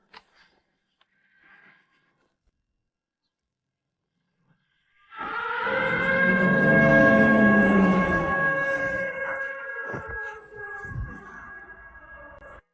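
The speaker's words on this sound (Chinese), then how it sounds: "这是咱们县的最高战备警报。" A county's highest combat-readiness alert siren in an animated drama starts abruptly after near silence, sustaining a loud layered wail that holds for several seconds before fading and breaking off.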